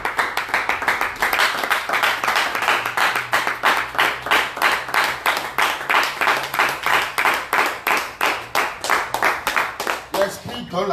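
A church congregation claps in a steady, rhythmic beat, sustained and fairly loud throughout, while voices call out and acclaim Jesus over the clapping.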